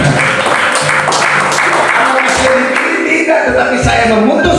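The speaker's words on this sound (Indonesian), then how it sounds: "Berikan tepuk tangan." Congregation clapping at an apartment worship service in Jakarta, a steady dense patter of hands mixed with music or voices underneath, running loud through the whole stretch.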